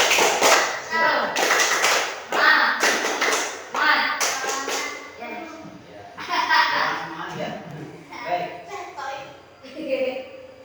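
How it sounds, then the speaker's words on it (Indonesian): Children in a classroom performing the rhythmic tepuk semangat clapping chant, sharp claps in patterned bursts with chanting voices between them, close and fairly loud. "yuk kita tepuk semangat dulu"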